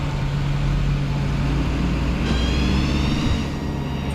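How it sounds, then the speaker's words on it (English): A PTO and power unit running on a Genie S65 boom lift during an oil drain service, a loud, steady mechanical drone with a constant low hum and a slight pitch shift partway through. "Let's go ahead and fire up my PTO and my power unit"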